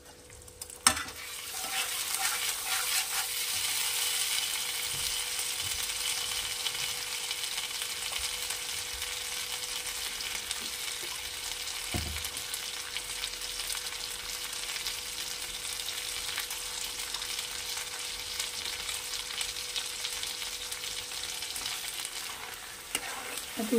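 Poppy seed paste frying in a pan for a Bengali tangra fish dish, a steady soft sizzle under repeated scraping and stirring strokes, with an occasional louder knock of the utensil against the pan.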